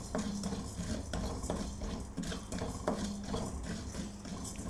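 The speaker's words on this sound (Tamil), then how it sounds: "பெருஞ்சீரகம், சீரகம் ரெண்டையும் ஒன்றா போட்டு இப்போ ரோஸ்ட் பண்ணணும்." A utensil scrapes and clinks against a pan as fennel and cumin seeds are stirred and dry roasted, steady rustling with periodic taps, close and fairly quiet.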